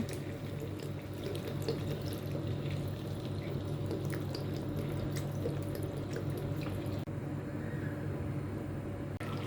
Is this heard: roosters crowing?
no